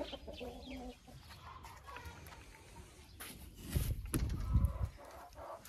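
Four old crested hens and a rooster cluck inside a polycarbonate greenhouse, soft scattered clucks throughout with a louder burst of close clucking near the end.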